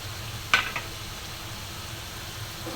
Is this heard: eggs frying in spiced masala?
yes